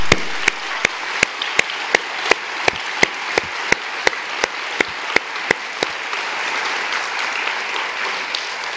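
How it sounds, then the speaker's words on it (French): Applause from the audience at the closing session of the CAUE regional and national congress. The clapping is steady and fills the room, and sharp regular clicks sound over it before the crowd noise fades toward the end. "Et je vous demande de les applaudir."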